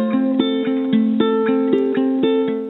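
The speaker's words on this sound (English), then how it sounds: "The morning bell sounds like this." An electronic school morning bell plays a steady, repeating melodic chime pattern of clear, evenly spaced tones, fairly loud and continuous for a few seconds with no voices.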